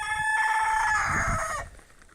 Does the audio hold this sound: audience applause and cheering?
no